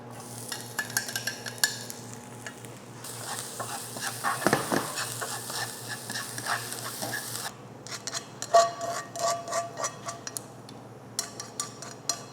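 Carrots being stir-fried in an oiled pan for a garnish on Korean janchi guksu noodle soup, with steady sizzling and repeated scraping stirs of a utensil, a few louder clanks, close and continuous.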